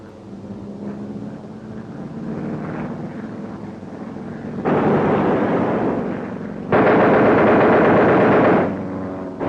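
B-17 waist gunner's machine gun firing, heard as two loud sustained bursts of rapid fire over a steady aircraft engine drone, each burst lasting about two seconds.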